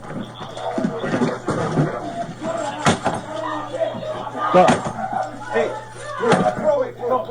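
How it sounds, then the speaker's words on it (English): Forceful kicks and bangs against an interior door during a Las Vegas police entry, several sharp thuds spread through the clip amid shouting officers and a crowd-like din. "Kick the door."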